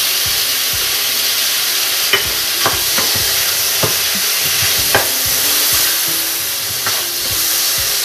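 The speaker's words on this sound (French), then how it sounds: "Je le mélange bien." Tomato paste and fresh tomato stirred in a hot frying pan, a loud steady sizzle with a spoon repeatedly scraping and tapping the pan in an uneven rhythm, no voices.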